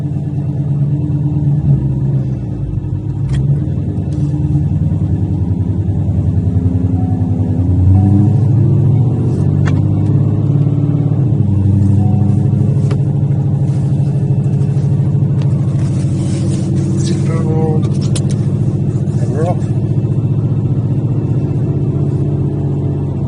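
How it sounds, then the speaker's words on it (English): A 2020 Ford Mustang GT500 on E85 idles in quiet exhaust mode with a steady, deep exhaust rumble, swelling slightly in the middle as if gently revved, then settling back to a low burble. "This is quiet mode with the AMG Auto Custom rear exhaust that we did"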